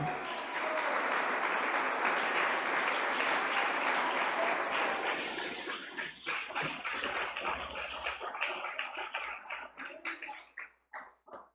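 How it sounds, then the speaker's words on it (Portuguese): A crowd claps steadily and loudly for several seconds, then the applause thins into scattered individual claps before fading out. "aplaude."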